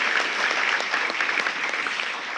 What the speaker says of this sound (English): please, a round of applause for our Scholarship Fund representatives